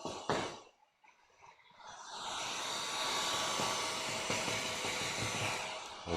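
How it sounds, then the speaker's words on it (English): A heat gun blowing hot air, a steady close roaring whoosh that starts after a brief clunk, rises within a couple of seconds and holds at a constant level to the end. "that's a hot heat gun"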